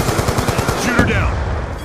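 Rapid machine gun fire in Black Ops 2 on the Nuketown 2025 map: a loud, close burst of quick rattling shots lasting under a second, followed by gameplay noise.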